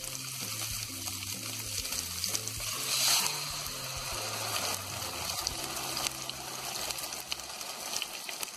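Food sizzles and crackles steadily in a pan, a close, continuous frying hiss with occasional brighter spatters.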